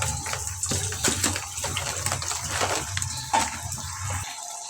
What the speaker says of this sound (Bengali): এবার পানি দিয়ে দিই।